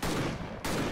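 A shotgun fires in the video game Victor Vran, giving dense, loud crackling blasts that cut off briefly and resume right away.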